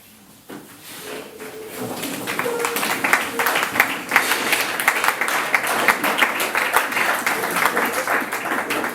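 An audience at a youth leadership meeting in Kasai-Oriental applauds newcomers who have stood up. The clapping swells from near silence into sustained, loud applause, and voices can be heard mixed in.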